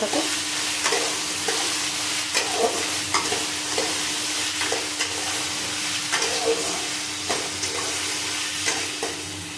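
A spatula stirs vegetable chowmein in a sizzling frying pan, its repeated scrapes and taps landing in an uneven rhythm over a constant hiss of frying and a steady background hum.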